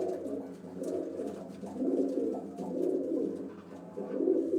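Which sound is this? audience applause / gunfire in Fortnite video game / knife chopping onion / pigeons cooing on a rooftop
pigeons cooing on a rooftop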